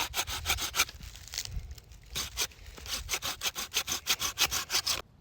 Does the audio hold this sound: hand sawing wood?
yes